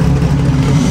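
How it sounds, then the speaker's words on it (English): A Ferrari at the Mille Miglia road race gives a loud, close engine roar, a steady low throaty drone held through a brief one-second burst with no voices. "And we got a Ferrari here."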